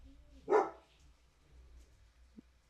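A pet dog barks once, loud and close, indoors during a home podcast recording, followed by quiet room tone and a faint short click.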